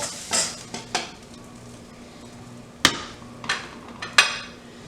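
Broccoli stir-fries in a super-hot pan, a steady sizzle punctuated by several sharp metallic scrapes and clacks of a utensil against the pan, spaced irregularly and close by, with no talking.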